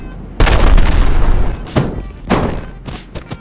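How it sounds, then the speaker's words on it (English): A grenade launcher fires in the video game Cry of Athena, giving one heavy, booming blast that rolls on, then two more thudding explosions follow at a distance. "I use this thing. Grenade launcher."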